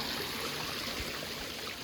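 Water pours down a rocky mountain waterfall on a hillside forest stream, a steady broadband rushing roar heard up close without voices.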